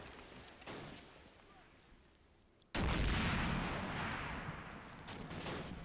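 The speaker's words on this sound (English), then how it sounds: "This is a 76mm gun." A 76mm gun fires once in a combat video game, a sudden loud blast at mid-clip that rolls into a long, booming decay over faint background ambience.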